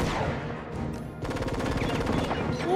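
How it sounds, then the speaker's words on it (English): Enemy gunfire in the video game Enter The Matrix: loud, rapid bursts of automatic shots with a quick regular rattle, close and continuous, over game effects and whooshes. "Ooh, hold on, they're shooting."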